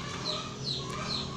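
A large batch of day-old chicks, about 1700 of them, peep in brooder boxes, with three thin high chirps rising over a steady, dense background of cheeping and hum.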